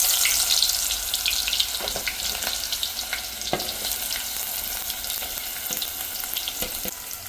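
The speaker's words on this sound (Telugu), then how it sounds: "ఇప్పుడైతే oil వేడెక్కిపోయింది. 2 medium size onions cut చేసి వేసుకుంటున్నాను." Two medium chopped onions sizzle in hot oil in a pan, a steady loud frying crackle with occasional clinks of stirring throughout.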